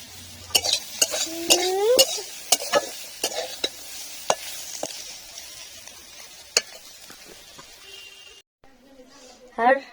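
Flat beans fry in a pan while a spoon stirs them, giving a soft steady sizzle broken by sharp clinks and scrapes of metal on the pan. A voice speaks briefly near the end.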